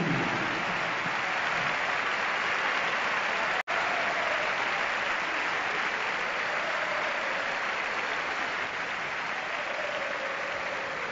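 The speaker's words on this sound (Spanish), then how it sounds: "Un fort aplaudiment per a ell." Sustained, even applause from a large crowd greeting a Valencia CF football coach at a legends match event, broad and steady throughout with one sharp click partway.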